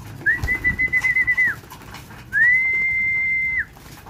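Two long, steady cooing calls from pigeons, each held for over a second, with a brief gap between them and faint background noise.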